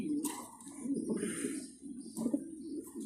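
Mundeyan pigeons on a breeding farm coo softly and repeatedly in a low, rounded rhythm, fairly close, with faint background noise throughout.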